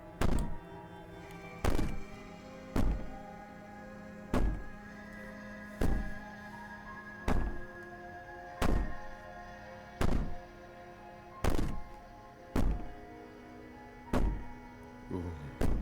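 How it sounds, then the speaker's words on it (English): A princess pounds on a door in the video game Slay the Princess: heavy, evenly spaced thuds, about a dozen in a row, each loud and close with a short echo. "Maybe the banging and wailing will stop if you just don't pay attention to it."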